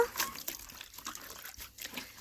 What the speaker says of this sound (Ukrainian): Після цього ми погружаємо нашу павутинку у воду і отакими рухами починаємо прати.